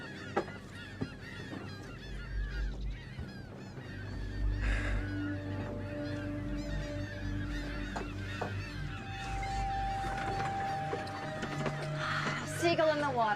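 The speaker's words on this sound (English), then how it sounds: "Seagull in the water." Seagulls calling by the water on a beach in a mysterious thriller video game, repeated honking cries scattered through steady ambience, with people talking over them.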